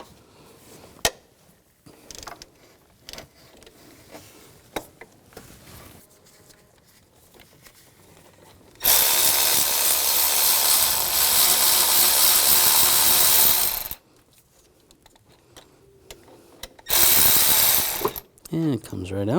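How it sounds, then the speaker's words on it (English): A hand ratchet with a 16mm socket loosens the idler pulley bolt on a 2000-2006 BMW X5 3.0L inline-six, giving two bursts of rapid, loud clicking amid scattered clanks and handling noises. "Using a 16mm socket, you want to loosen the bolt"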